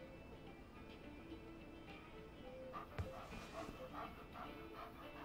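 A puppy found at a gas station in the video game Life is Strange 2 gives faint, short yips and barks against quiet game ambience.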